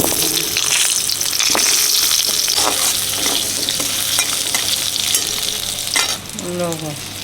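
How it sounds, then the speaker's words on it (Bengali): Potatoes frying loudly in oil left over from frying fish, for a katla fish curry with green banana, produce a dense, close, continuous sizzle with stirring scrapes, and a brief clank near the end. "মাছ ভেজে যে তেলটা আছে ওতেই রান্না হয়ে যাবে আলু"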